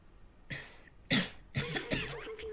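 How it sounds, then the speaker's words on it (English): A few sharp, close coughs in quick succession, one after another, with a bit of throat clearing at the end. "I was coughing a lot when I was playing this gameplay"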